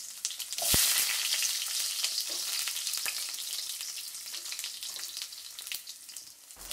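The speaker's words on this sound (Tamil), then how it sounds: "கடாயில் எண்ணெய் ஊற்றி, எண்ணெய் காஞ்ச உடனே கடுகு, உளுத்தம்பருப்பு, வெந்தயம், சீரகம், ரெண்டே ரெண்டு மிளகு இதெல்லாம் போட்டு தாளிக்கணும்" Mustard seeds, urad dal, fenugreek, cumin and peppercorns sizzling in hot oil in a kadai for tempering prawn gravy, a close, steady crackling hiss with scattered pops and a stirring clink.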